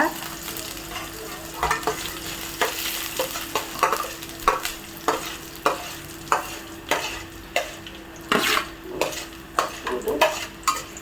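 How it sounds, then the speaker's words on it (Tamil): Urad dal and chana dal frying in a pan, a steady low sizzle under repeated scraping stirs of the spoon, close and moderately loud with no talk. "லேசாக பொன்னிறமாக வறுத்து எடுத்துக்கணும்"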